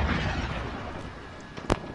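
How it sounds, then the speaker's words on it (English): Cruise missile strike in the Modern Warfare video game: a low rumbling blast fading off, followed by a short sharp crack near the end, moderately loud with no talk. "Enemy cruise missile."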